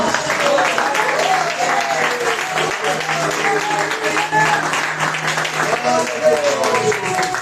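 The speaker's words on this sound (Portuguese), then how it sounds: "Glorifica a Deus com palmas." A church congregation claps steadily in worship to glorify God, the dense applause running throughout beneath voices singing and calling out.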